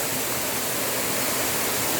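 Ringin Jenggot waterfall in Karanganyar roars as a loud, steady, dense rush of falling water heard up close, with no voices over it.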